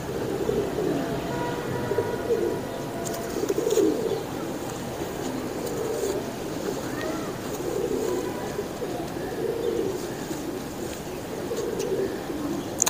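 Soft, low cooing of a male pigeon repeats in gentle rolling phrases through steady background noise, with occasional faint chirps and clicks.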